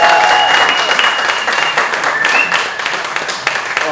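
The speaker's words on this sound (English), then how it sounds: "Let's give them a round of applause." Audience applause at an outdoor press conference for a Fiesta Patronales celebration, loud, full clapping from a gathered crowd that slowly eases in intensity, with faint chatter mixed in.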